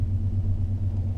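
A BMW E31 840Ci converted to electric drive cruising downhill in fifth gear, giving a steady low rumble with a constant drivetrain hum and road noise, no voices.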